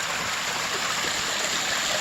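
Water from a garden pond waterfall runs steadily over rocks and gravel, a constant close rushing and gurgling with no voices.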